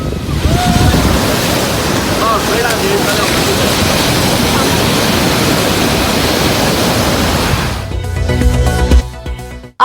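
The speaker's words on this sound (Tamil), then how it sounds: "புதுச்சேரியில் கடல் சீற்றத்துடன் இருப்பதால் சுற்றுலா பயணிகளுக்கு அனுமதி மறுக்கப்பட்டதால் ஏமாற்றம்" Rough sea surf on the Puducherry coast roars as a loud, steady wash of breaking waves and wind, then cuts off abruptly near the end.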